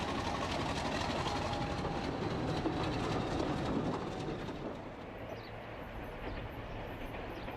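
A classic British diesel locomotive on mainline duty, a loud rumbling roar with rolling rail noise that fades a little as it passes, carried on with no voices.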